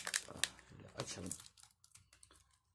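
Packaging from a succulent and cactus plant delivery crinkles and rustles as it is opened, a few sharp close crackles and tearing bursts in quick succession that fade into softer handling, with a voice briefly speaking.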